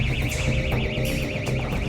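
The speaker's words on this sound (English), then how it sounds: "A control box sets off an alarm after detecting the presence of abnormal gas." Gas detector alarm set off by a control box in a Paris sewer, a loud continuous warbling electronic tone that wavers rapidly up and down over a low hum.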